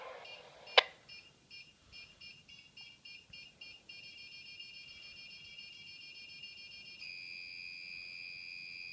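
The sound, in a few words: airsoft prop bomb countdown beeping before exploding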